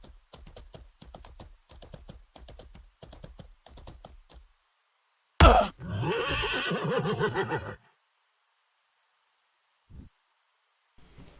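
A horse in the video game Mortal Online 2 lets out a loud, drawn-out neigh after falling down a small slope, following a run of rhythmic hoofbeats, then near silence.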